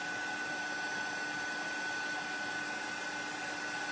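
A heat tool melting embossing powder on a card gives a continuous even whirring blow with a faint tonal whine, close and unbroken throughout.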